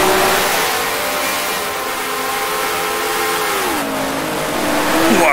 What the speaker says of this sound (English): as the Cooper there slides out, overrev the car a little bit